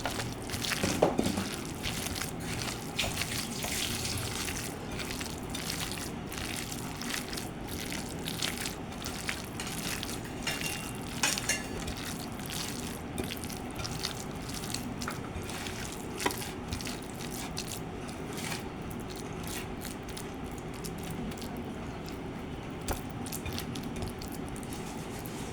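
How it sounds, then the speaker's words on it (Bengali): Long vermicelli pakora batter squished and kneaded by hand, a steady run of wet, sticky squelches and soft crunching close up, with no talking. "এখন আবার আমি ভালো করে মাখিয়ে নেব।"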